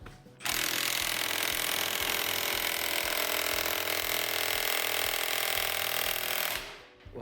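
A Milwaukee M12 Stubby 1/2-inch impact wrench hammers continuously for about six seconds, a loud dense rattling burst that starts abruptly and cuts off near the end.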